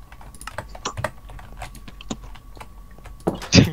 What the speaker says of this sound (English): I thought you were typing.